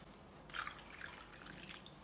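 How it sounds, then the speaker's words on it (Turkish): Water poured from a container into a hollow pressed into a mound of flour dough, giving a faint, short splash and trickle around the middle of the moment against a quiet room. "Ve yeniden çukur kısmını suyla dolduruyorum."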